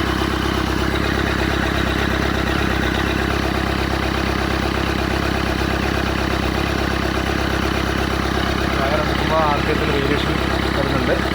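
A Nissan Evalia engine with a rail-pressure fault idles after starting, a loud, close, continuous rumble with some clatter throughout and a voice briefly heard over it.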